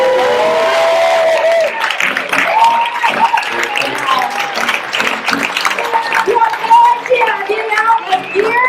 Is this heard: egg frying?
no